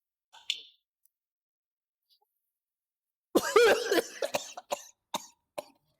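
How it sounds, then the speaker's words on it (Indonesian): A single forceful cough follows a short click of a lighter, then several sharp coughing bursts after a quiet pause, in a casual hangout where someone has just been handed a lighter. "Batuknya beneran anjing."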